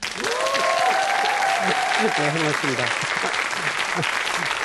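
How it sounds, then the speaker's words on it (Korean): A lecture audience claps in a steady wash of applause while someone speaks briefly over it. "한 번 더 박수를 크게 쳐주세요."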